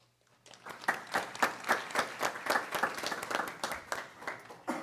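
An audience at a school board meeting applauds for several seconds. The clapping is dense and steady and swells slightly before it tapers off.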